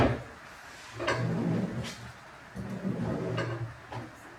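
Two deep drawers of a mill accessory caddy slide out in turn, each a short rumbling glide with a light knock at the end, heard up close in a quiet workshop.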